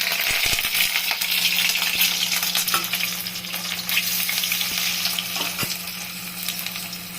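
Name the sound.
eggs frying in a pan for egg curry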